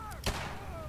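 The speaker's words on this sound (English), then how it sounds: "who's got the rocket launcher over here?" A single heavy blast from a rocket launcher in the video game Fallout 4, one short loud boom that cuts through quieter game background sound.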